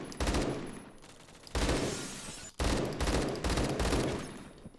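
Bursts of automatic fire from an AK12 fitted with a BARS barrel in Roblox Phantom Forces, three loud clustered volleys of rapid shots separated by short gaps, close and alone.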